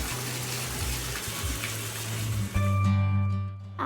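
Water runs from a tap while muddy shoes are washed after a hike, a steady splashing gush that shifts in pitch as the flow changes, then tapers off near the end.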